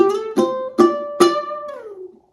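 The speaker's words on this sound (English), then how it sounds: "you can also use left hand muting here, and it will sound like this" Four bright ukulele strums in a steady rhythm, each chord clipped short by left-hand muting before a final strum rings out and fades, played alone and up close on a rock riff.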